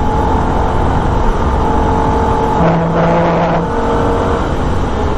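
Holden race car at the Nurburgring, engine held at wide open throttle with a steady loud drone, a brief tonal change midway as it sweeps through a section, continuous and close with no talk.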